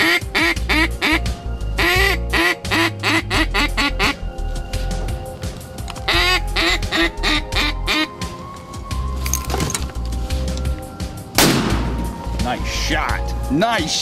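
Rapid, repeated quacks from a hunter's duck call in bursts during a duck hunt, loud and close, with talking and rustling mixed in.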